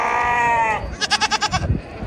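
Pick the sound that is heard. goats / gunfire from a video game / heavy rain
goats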